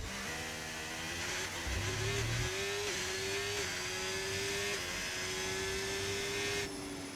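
An F1 racing car engine in the F1 25 video game screams around the Circuit of the Americas on a qualifying hot lap, a steady high-revving whine with quick gear shifts and a brief downshift blip, no voices.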